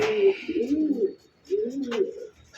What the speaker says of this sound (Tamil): இப்போ இந்த லாஃப்டில் நம்ம வந்து மெயினாக என்னென்ன புறா இருக்குங்கிறது காமிச்சிட்டோம்.